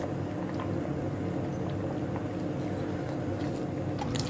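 A pot of jowar rice (jonnannam) with salt added simmers steadily, a continuous low bubbling rumble with faint pops, no voices.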